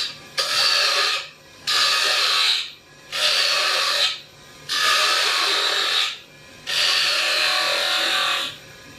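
A half-inch spindle gouge cuts a cove into wood spinning on a lathe: five loud, even bursts of hissing, scraping cutting noise with short pauses between passes, and no talking.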